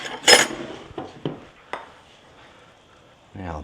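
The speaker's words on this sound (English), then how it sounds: "all I'm going to have to do is just mix in some cornstarch with this" Cornstarch thickener being mixed in a bowl for beef tips, heard as a sharp utensil clink followed by several lighter taps and scrapes against the bowl, then quieter rustling before a voice begins at the end.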